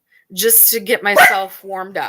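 A pet dog barks several times in sharp, loud bursts close by, tangled with a person talking over it indoors.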